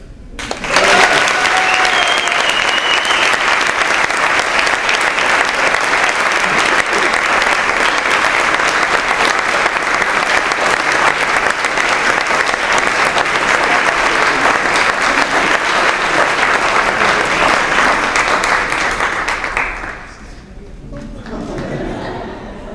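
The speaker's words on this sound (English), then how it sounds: "I want you to give a big round of applause" A big round of applause from the crowd at the IUPUI Mentor Celebration in 2011 honours one mentor. Loud, dense clapping holds steady for about twenty seconds, then drops away, leaving faint voices and stray claps.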